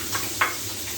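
Chopped onion hits hot oil in a pan, giving a couple of short sizzling bursts over a steady low frying hiss, close and fairly quiet, with no voices.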